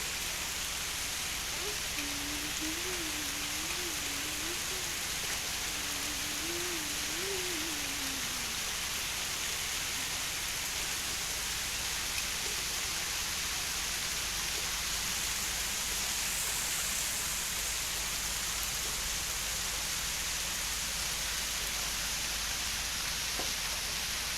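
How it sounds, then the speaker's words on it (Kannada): Heavy rain pours down steadily, a dense, unbroken hiss and roar that fills the whole stretch at an even, loud level, with a faint humming voice briefly audible beneath it early on. "ನೋಡಿ ಇವಾಗ ಮಳೆನೂ ಕೂಡ ಜೋರಾಯಿತು"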